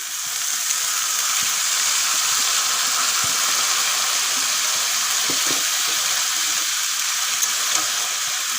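Chickpeas and carrots fry in a pan with a loud, steady hiss of sizzling oil that holds evenly throughout, broken by a few faint taps, and no one speaking.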